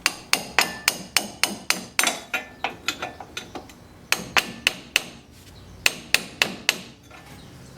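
Heavy hammer blows drive a big chisel against a front strut on a 2005 Cadillac STS, sharp metallic strikes in quick bursts of several hits separated by short pauses, close and loud with no talk.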